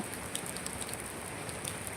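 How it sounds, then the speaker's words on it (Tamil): Heavy northeast monsoon rain falling at night in Chennai, a steady dense hiss of drops on surfaces with no break, moderately loud and alone without talk. "மழை வந்து இப்போ சென்னையில் அதிகமாக பெஞ்சுன்னு இருக்குது"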